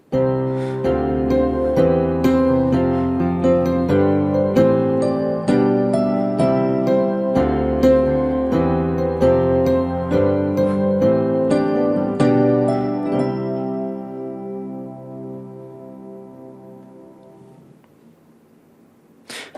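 A piano plays a sequence of full chords that climb steadily upward, struck rhythmically at even volume before the last chord rings out and fades.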